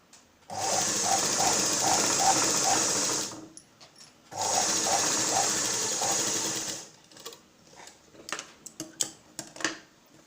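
A sewing machine stitches a blouse sleeve in two sustained, rapid whirring runs with a rhythmic mechanical beat, close up, followed by scattered clicks and handling of the fabric.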